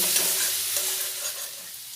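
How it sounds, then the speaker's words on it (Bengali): Potatoes fry in hot oil with turmeric and salt while being stirred, a steady close sizzle with soft scraping all the way through and no voices. "দিয়ে নাড়াচাড়া করে খুব ভালোভাবে আলুগুলো ভেজে নেব।"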